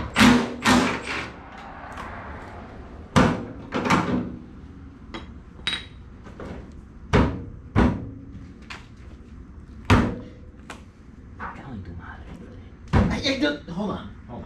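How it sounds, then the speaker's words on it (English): A bare hand bangs repeatedly on a track car's door panel, loud irregular thumps and slams, some in quick pairs, spread over several seconds, with people talking between the hits. "You're banging it with your freaking hand."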